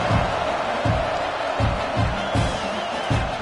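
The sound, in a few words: football stadium crowd buzzing after a touchdown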